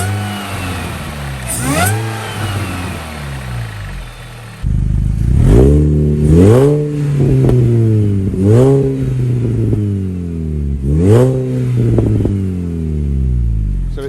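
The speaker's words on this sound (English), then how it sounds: "Be rude not to give it a rev." A supercharged Mini Cooper S R53 engine, not fully warmed up, revs close by in several rising and falling bursts, the whine sweeping up and dropping back between short idle gaps, loud and alone.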